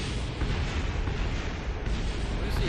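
Continuous dense rumbling roar of explosions above a spacecraft in Kerbal Space Program, loud and steady throughout with no clear separate bursts and no voices.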